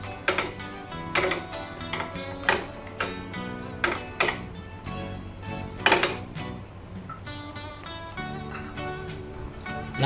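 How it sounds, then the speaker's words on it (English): Chopsticks clatter and tap against a pan while egg is stirred for omurice, a series of sharp, bright clicks at an uneven pace, close and clear, with no talking. "Stir the egg with a pair of chopsticks until it is half cooked."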